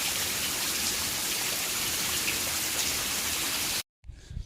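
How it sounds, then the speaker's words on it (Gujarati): Steady rain falls in a dense, even hiss on a farm in Gujarat for nearly four seconds, then cuts off abruptly into near silence with a faint patter returning at the end. "વરસાદ આવી ગયો."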